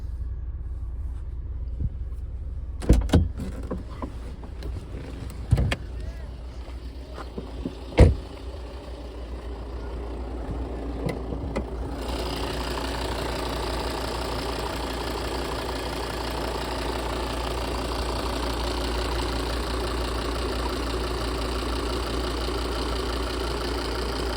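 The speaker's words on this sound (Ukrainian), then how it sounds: "Також зараз я вам продемонструю роботу мотору автомобіля." A Volvo XC60 2.4 D4 diesel engine clatters steadily at idle, close and constant, after a few sharp clicks and thumps before it starts running.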